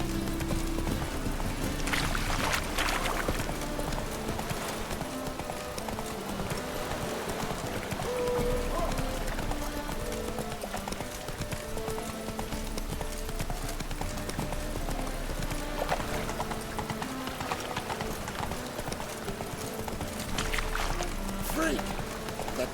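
Geralt's horse Roach trots through a game world, steady hoof clip-clops running under music and ambient sound, with a voice briefly speaking.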